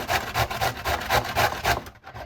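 Cauliflower florets scraped across a metal box grater while preparing backcountry cauliflower rice, a close, steady rasping in about eight even strokes that stops abruptly near the end.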